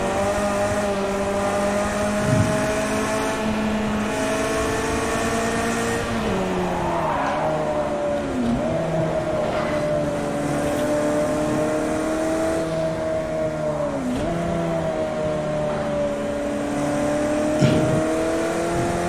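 Race car engine in Project Cars 2, held loud and steady throughout with rising and falling revs as gears shift, punctuated by brief tire squeals and skids on grass.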